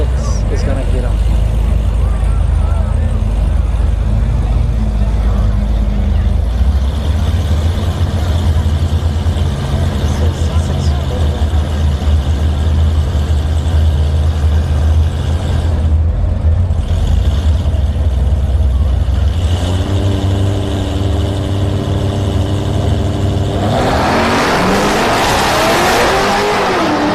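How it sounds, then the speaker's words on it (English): A Pontiac Firebird and a Corvette C6 drag race at a no-prep event at Orlando Speed World: steady loud engine drone and rumble throughout, ending in a sharp burst of revving and tire noise near the close. "I love this Pontiac Firebird, but I think the C6 is going to get him."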